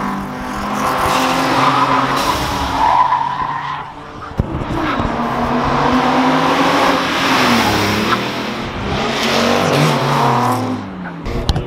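A Toyota Yaris drives on the Modlin race track, its engine droning and shifting pitch as it passes with tire scrub and skidding noise, loud and close throughout.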